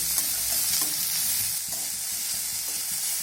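Chopped onion and green chillies frying with tempering spices in hot oil give a steady, close sizzle with occasional scrapes of stirring throughout.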